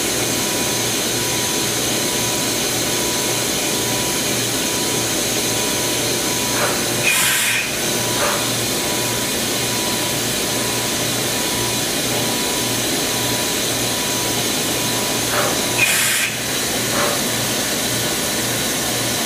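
A Kitamura HX300 horizontal machining center's spindle runs with a steady, loud mechanical whir and hiss, broken by two brief bursts of air or coolant blast partway through.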